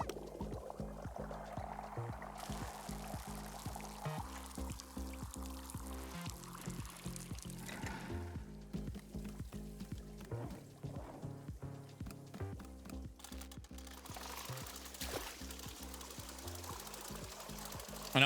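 Tea brew is poured out in the video game Wanderstop, a soft trickling pour running beneath steady, rhythmic game music for a long stretch.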